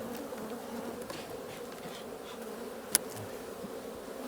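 Steady, dense buzzing of many honeybees in a hive close by, a continuous hum with a brief click partway through and no voices.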